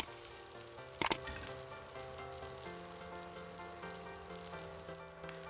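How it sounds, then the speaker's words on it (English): Momos fry in a pan with a soft, steady sizzle that stays low and even, broken by a brief sharp clatter about a second in. "Fry this nicely."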